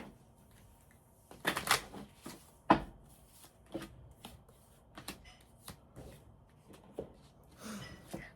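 Tarot cards being shuffled back into a deck, with irregular crisp riffles and snaps, a louder flurry early on, then scattered softer card taps at close range in an otherwise quiet room.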